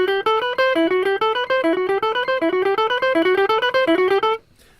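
Quick picked guitar notes run up and down in a repeating pattern at an even, brisk tempo, then stop abruptly.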